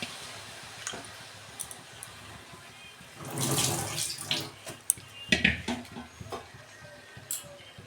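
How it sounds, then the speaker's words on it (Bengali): A little water poured into a pan of frying greens (potato leaves and drumstick leaves) gives a brief splashing burst in the middle, followed by sharp clinks and taps of utensils against the pan. "অল্প জল দিচ্ছি"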